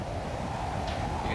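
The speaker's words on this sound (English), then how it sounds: "You can start to hear the roar outside." Hurricane Andrew's winds roar outside a house, heard from an indoor hallway as a continuous low, broad rushing noise that stays steady and fairly faint throughout.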